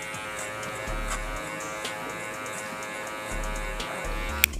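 Electric hair clippers buzz steadily and close by during a men's fade haircut, cutting clipper over comb. The whirring drone runs without a break, with only small shifts in pitch as the blade moves through the hair.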